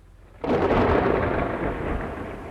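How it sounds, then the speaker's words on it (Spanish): A loud thunderclap from a sound effect in a Spanish audiobook of a horror story, bursting in abruptly after a quiet moment, then rolling on as a sustained heavy rumble with a rain-like hiss, with no voices. "un agudo relámpago tardío, seguido de un estruendo ensordecedor, rasgó los cielos inundados"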